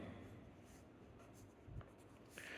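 Pen writing the number 1 on paper during a Class 10 maths lesson on determinants, heard as a short, faint scratch of strokes under low room noise.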